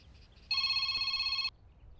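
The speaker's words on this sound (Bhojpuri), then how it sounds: "शिवानी शिवानी के फोन।" A telephone rings once in a bright electronic burst of about a second, clear against a quiet room background.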